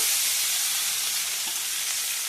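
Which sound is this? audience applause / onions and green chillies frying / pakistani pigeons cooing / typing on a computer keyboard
onions and green chillies frying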